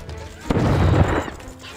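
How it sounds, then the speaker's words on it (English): A cannon fires a cannonball in the video game Totally Accurate Battle Simulator, giving one booming burst midway that rings briefly before fading under a voice talking. "the cannon can shoot some cannonballs into there"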